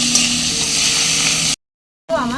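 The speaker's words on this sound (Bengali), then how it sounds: "পেঁয়াজটা এখন আমি লাল করে ভেজে নেব।" Chopped onions sizzle steadily in hot mustard oil, frying to a red-brown colour in a home kitchen. The crackle stays loud and even, then cuts to a brief silence before resuming with some stirring.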